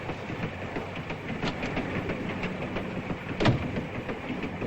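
A European passenger train runs in a 1950s spy film noir, giving a steady, fairly quiet rumble with faint rhythmic clatter and one brief louder clack partway through.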